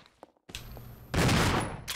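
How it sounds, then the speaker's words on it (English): Shotgun blasts in the video game Resident Evil 0: a loud, dense burst of gunfire fills the second half after quieter scattered thuds, with a bright crack at the very end. "just use the shotgun a second on this guy"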